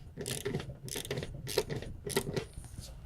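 Bolts being tightened by hand on a car's windshield wiper transmission under the hood, giving repeated clicking, ratcheting bursts in short rhythmic runs, close and fairly loud, with no talking.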